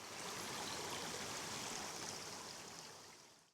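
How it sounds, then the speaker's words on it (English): Water runs steadily along a leat, a channel cut off a brook beside an old engine house, a constant close broadband rush that holds even and then fades toward the end. "So water would have been channelled along here off the brook."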